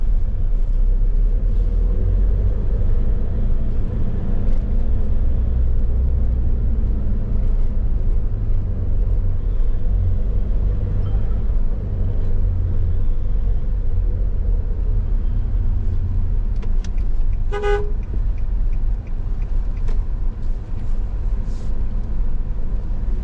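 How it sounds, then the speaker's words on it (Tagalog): Many vehicles pass on a busy road near a parking area, a steady loud rumble of engines and tyres throughout with a brief high-pitched squeal partway through, and no one speaking. "Maraming sasakyan siguro."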